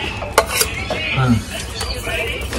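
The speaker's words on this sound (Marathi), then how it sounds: "आपण मस्त कढई घेतलेली आहे, आपला मसाला भाजून घेऊ।" Spices dry-roasting in a kadhai outdoors on a rooftop, for chulivarchi misal, heard as a metal spoon scraping and clinking against the pan with a soft crackle, a few sharp knocks standing out, and faint voices in the background.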